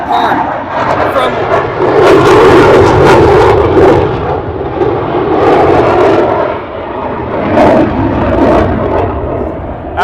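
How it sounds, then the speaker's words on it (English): F-18 fighter jet flying overhead, a loud sustained roar that rises and falls as it passes and fills the scene throughout. "What separates it apart from things like the F-18 that's flying around?"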